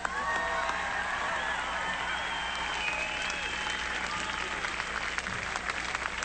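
A large crowd at an anti-war rally claps and cheers loudly and continuously, with high whistles and shouts over the dense applause.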